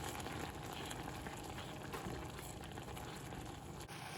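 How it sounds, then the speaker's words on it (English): A pot of rhubarb compote cooking toward a boil gives off a quiet, steady bubbling and simmering hiss, faint and continuous with no voices. "So I'll let this cook, come to a boil, and then cook until the rhubarb is really falling apart."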